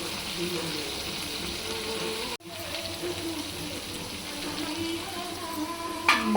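Prawns with tender tamarind leaves fry in a pan with a steady broadband sizzle, briefly cut off partway through before resuming, with faint stirring and no talk.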